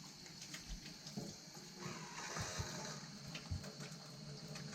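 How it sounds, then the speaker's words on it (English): Hands are washed under a running tap in a home kitchen, the water pouring and splashing steadily with soft, close rubbing and splatter throughout. "Then we're going to wash our hands."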